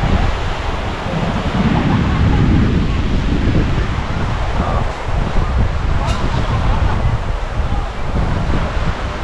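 Sea surf at a sunny shore, a continuous loud wash of breaking waves mixed with heavy wind buffeting, with a voice speaking over it.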